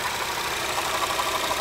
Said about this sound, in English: So the idler and the water pump are running pretty smooth.